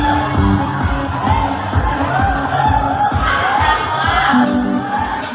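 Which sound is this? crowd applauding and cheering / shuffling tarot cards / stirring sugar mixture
crowd applauding and cheering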